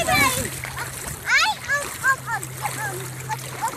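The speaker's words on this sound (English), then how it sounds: "No splashing." Children splash in shallow water on a family beach day, with quick bursts of slapping spray as high young voices chatter and call out over them.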